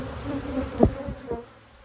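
Honeybees at their spring hives give off a steady, close insect hum, with a few brief louder swells as individual bees pass near.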